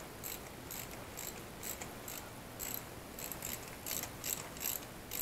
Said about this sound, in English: Don't let it wobble when you turn your ratchet